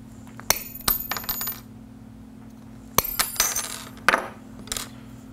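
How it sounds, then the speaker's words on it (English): Needle nose pliers snip the ends off wire: a handful of sharp, metallic clicks come in small clusters with pauses between them, close and fairly crisp, with no talking. "I'm going to take my needle nose pliers and cut these ends off."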